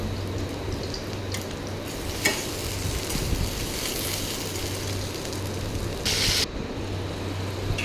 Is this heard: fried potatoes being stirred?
yes